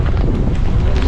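Loud, buffeting wind on a boat in cold rain in Vietnam rumbles against the microphone in a short, continuous gust.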